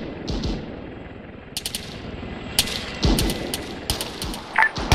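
Gunfire from an enemy-squad engagement in ARMA 3 crackles in sharp bursts and single shots, with low thumps over a rumbling background, some reports near and others more distant.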